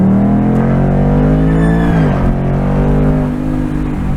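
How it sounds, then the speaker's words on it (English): A Ford Mustang with a 5-liter V8 drives by, a loud, steady engine drone whose pitch bends down as it passes close, heard alone without speech. "Oh, there's a 5-liter V8 there."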